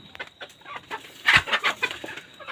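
Desi (local breed) hens cluck in short, irregular bursts close by, a few muttering and calling over each other.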